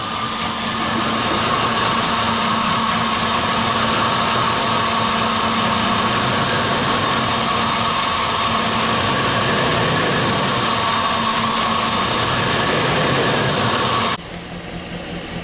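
A Chevrolet pickup engine idling steadily while its cooling system is burped, a loud, continuous, even rumble close by that stops abruptly near the end; no distinct gurgle stands out over the engine.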